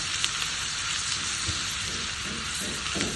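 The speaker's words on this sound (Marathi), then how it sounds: "आता आपण या लाल मिरची आणि लसूण टाकून घेऊया आणि त्याचा खमंग असा तडका तयार करूया" Dried red chillies and garlic sizzle in hot oil for a tempering, a loud continuous close-up crackle with a few soft pops and no talk.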